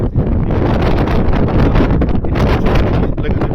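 Strong wind buffets the microphone in loud, rumbling gusts that rise and fall continuously, in Ushuaia.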